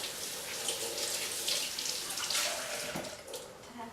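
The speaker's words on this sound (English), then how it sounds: "So I'm going to rinse these little hands off." Tap water runs steadily into a sink as hands are rinsed, a close continuous splashing hiss with small shifts as the hands move through the stream.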